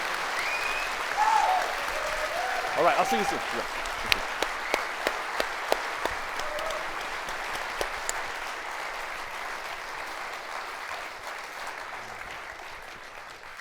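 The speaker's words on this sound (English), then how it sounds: "Hey, round of applause." Live studio crowd in London claps for guest Dan Hardy, a thick burst of applause that gradually thins to scattered claps as a host speaks briefly over it.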